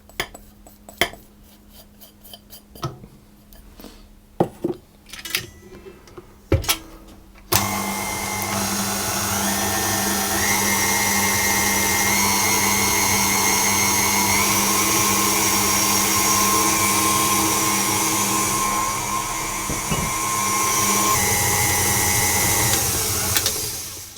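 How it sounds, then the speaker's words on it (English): A stand mixer with its whisk attachment whips cake batter for a lemon cake in a loud, steady whir. A few clinks and taps come first, then the motor runs on for about seventeen seconds. "I will whisk this until it's light and fluffy"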